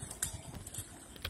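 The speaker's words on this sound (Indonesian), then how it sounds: "Ya, itu kerbau." A domesticated water buffalo walks, its hooves making a few soft, irregular clops close by against a noisy outdoor background.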